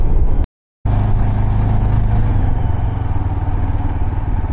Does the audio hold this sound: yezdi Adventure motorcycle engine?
yes